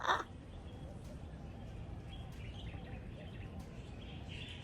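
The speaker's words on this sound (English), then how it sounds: "I'm going to let y'all listen to a little bird song before this be too long" Birds calling outdoors before sunrise, including crow-like caws and scattered chirps over a steady low background hum, with one louder call at the start and fainter calls following at a moderate distance.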